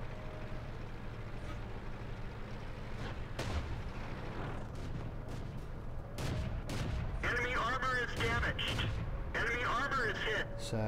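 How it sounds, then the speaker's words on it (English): Tank guns fire and hit in the World of Tanks video game, a series of sharp shots and impacts over steady engine rumble and game effects, with someone talking throughout. "So 3 shots hitting there out of the 4."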